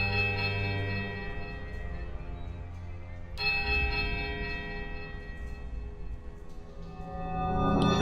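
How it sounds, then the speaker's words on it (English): A strange, wobbling bell peal in the fantasy role-playing game Pillars of Eternity, resonant tones ringing out, a fresh strike midway swelling brighter, then lingering as a sustained, mournful chime with no voice. "The bell sounds strange, a wobbling peal that grows to a painful shrillness before diminishing to a"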